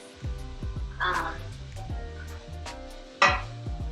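Vegetables for a crawfish dip sauté in a pan, with scattered sizzling and a couple of louder stirring bursts heard over a tonal musical background.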